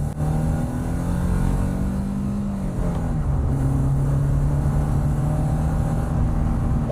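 Restarted 1990 BMW E30 engine, left abandoned for ten years, idling loud and close in a steady continuous drone with a slight rise and fall in pitch midway.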